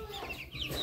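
Hens clucking at a backyard coop near their nest, a short burst of soft, close clucks with brief higher chirps from young chicks, over low background rumble.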